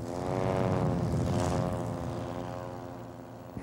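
A propeller airplane at an aerobatic airshow passes overhead, its engine drone loud and close, rising then slowly falling in pitch as it moves away, with no talk.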